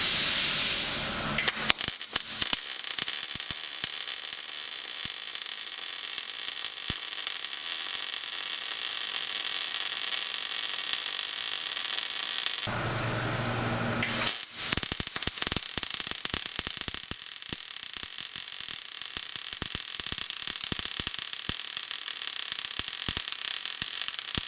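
MIG welding in globular transfer mode, a steady loud crackling hiss with irregular pops and spits that runs almost continuously, broken once by a short pause before the arc resumes.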